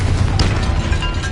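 The Confringo fire spell explodes in the video game Hogwarts Legacy, giving a loud, dense burst of blasting noise that fills the whole moment with no talk over it.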